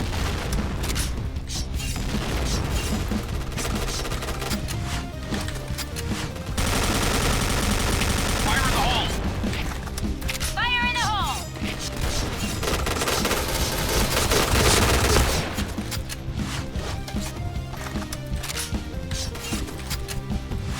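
Sustained HK-417 rifle fire in the online shooter Point Blank: long bursts of rapid, loud shots with mechanical clatter, broken by short pauses and brief tonal game effects, continuing steadily throughout.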